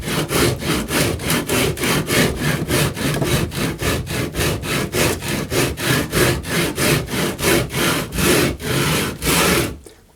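Cork roadbed for a model railroad helix is shaped with long sweeping cuts. The rasping, sawing strokes are loud and close, repeat in a steady back-and-forth rhythm for about ten seconds, then stop abruptly.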